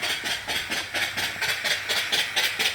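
A small live steam engine chuffs in a quick, even rhythm of hissing exhaust puffs at close range, running on about 50 to 60 pounds of boiler pressure while set on a table.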